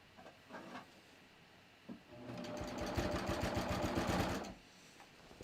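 A sewing machine stitches a bathrobe sleeve at the armhole in a quick, even burst of mechanical clatter lasting about two seconds, fairly close and moderately loud, with quiet handling sounds before and after.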